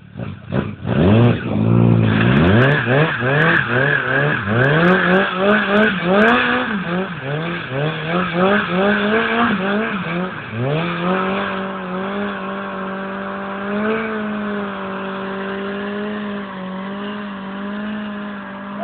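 Car doing a burnout on wet ground, wheel spinning to make smoke: a loud engine revving hard in repeated rising and falling surges, then holding a high, steady roar with tire noise throughout.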